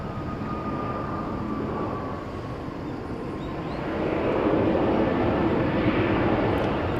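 Boeing 747-400 airliner, a 23-year-old Atlas Air jet, at Incheon Airport in Seoul, giving a steady broadband jet roar with a faint whine that swells louder in the second half, heard from a distance with no talk.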